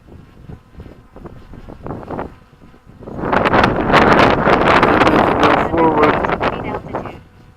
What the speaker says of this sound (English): It's got too much of a wind.